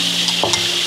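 Fish fries in hot oil in a big pan, giving a loud, steady hissing sizzle with a brief stir or scrape partway through, close and continuous with no talking.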